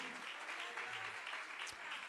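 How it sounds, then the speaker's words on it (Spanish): A church congregation claps in praise to God during a Spanish-language service, a faint, steady patter of many hands at a distance. "Démosle palmas de alabanza a nuestro Dios."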